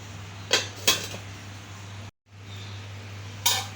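A lid is set on an appam pan on the stove, giving a few sharp metallic clinks over a low steady hum, with one final clink a moment later.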